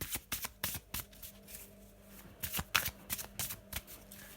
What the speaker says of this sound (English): I'm just going to have a shuffle.